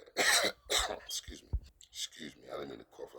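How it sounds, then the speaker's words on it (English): A person coughs several times in rough, close bursts, with throat clearing and breathy sounds between them. "excuse me, I didn't mean to cough like that"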